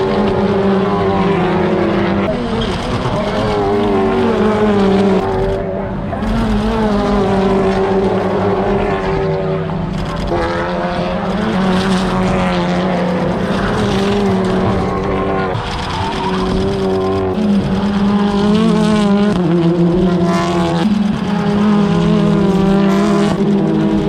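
TCR UK touring cars race through a chicane at a 2021 race, engines roaring loudly and continuously as they rise and fall through gear changes, with several cars passing in close succession.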